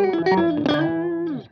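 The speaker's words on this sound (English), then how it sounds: "We turn into a slightly delayed octaver pedal, which is really fun." Electric guitar run through an Electro-Harmonix Deluxe Memory Boy delay set to zero delay time, giving a thick octave-doubled, slightly distorted tone: a quick run of picked notes ending on a sustained note that bends down, played alone.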